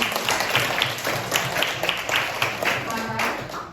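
A classroom of students applauds after a group presentation, a dense steady patter of many hands clapping close by, with voices faintly mixed in.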